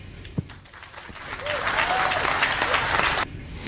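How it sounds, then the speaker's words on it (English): An audience bursts into applause that swells after a moment, holds loud and full, then cuts off sharply near the end, with some talk mixed in. "Big smile, big applause."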